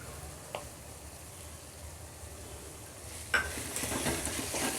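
Turmeric and salt being stirred into onions frying in a pan for Rayalaseema uggani bajji, a steady soft sizzle with a brief scrape early on and a louder clatter of stirring near the end.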